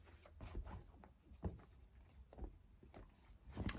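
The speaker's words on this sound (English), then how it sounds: "One more shuffle." Tarot cards being shuffled by hand, soft papery riffles and rubbing strokes in irregular bursts, quiet and close with no talking.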